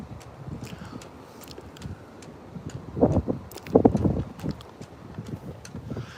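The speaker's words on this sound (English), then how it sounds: "You may not be able to hear me this windy." Strong wind buffets the microphone on a flooded Keyport shoreline, a steady low roar with louder gusts surging in the middle, no voices.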